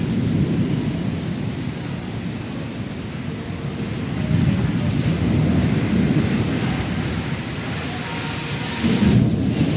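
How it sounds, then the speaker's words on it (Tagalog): Heavy downpour with deep rolling thunder, a dense continuous roar of rain over a city that swells louder twice as the thunder rumbles. "kumbaga malakas ang ulan na yan"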